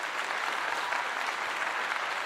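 Steady crowd applause for Colorado player DJ McKinney at a college football postgame event after the Oklahoma State game, a dense continuous clapping that holds at an even level throughout.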